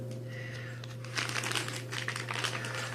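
Someone crinkles a plastic package open by hand: loud, dense crackling bursts over a steady low hum, starting about a third of the way in and continuing in irregular flurries.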